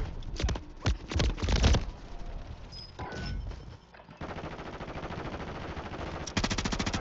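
Warzone 3 Plunder match with rapid bursts of automatic gunfire close by in the opening seconds, a few scattered shots, then a steady rattling stretch and another burst at the end, no talk.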